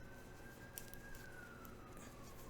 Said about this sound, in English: And here we have sirens.